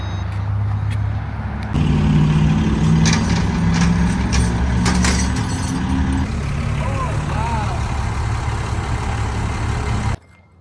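A straight-piped GMC 3500 pickup idles with a deep, steady rumble that holds loud and even throughout, then cuts off abruptly near the end; a voice talks briefly over it.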